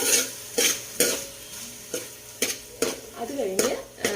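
Wheat frying in ghee for payasam while being stirred, loud rhythmic scraping strokes roughly every half second over a soft continuous sizzle, close up and without speech.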